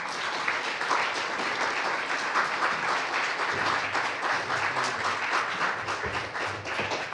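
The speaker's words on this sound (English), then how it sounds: "Give him a round of applause while he walks up to his chair." An audience at an author talk applauds writer Anthony Swofford as he walks to his chair, with even, continuous clapping from a moderate crowd filling about seven seconds.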